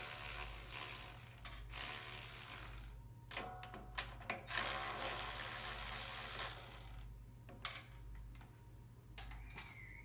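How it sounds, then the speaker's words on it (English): A 1/2 inch wrench ratchets on the bolts holding the discharge chute of a Scag SWZT mower with a 48-inch deck, giving quiet, fast ratcheting clicks and metallic clinks in short bursts over a low hum. "It takes a 1/2 inch wrench to do this."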